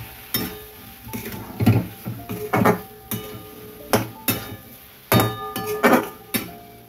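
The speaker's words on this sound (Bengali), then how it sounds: "এবার নেড়ে দেবো।" A spoon scrapes and knocks in a pan while spice mixture with chilli powder and sugar is stirred for Bengali kochur mukhi curry, making irregular close clinks and taps over a quiet background.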